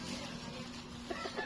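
Several short, soft clucks from a chicken, bantam hens kept at home, come in quick succession over a low, steady background hum, fairly faint and a little distant.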